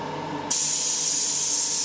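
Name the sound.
airbrush spraying out cleaner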